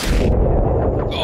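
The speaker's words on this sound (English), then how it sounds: "That was a grenade." A grenade explodes in the video game ARMA Reforger, a loud, close, broadband blast that fills about a second with a rumbling low-end tail and no talk over it.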